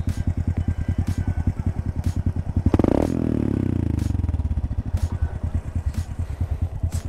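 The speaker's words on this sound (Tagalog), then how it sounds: "O yan ho yung tunog ng RS 125 ko." A Honda RS 125 motorcycle with stock canister and elbow, nearby and loud, idling in a fast even putter, then given one throttle blip that swells and winds back down before the steady idle returns.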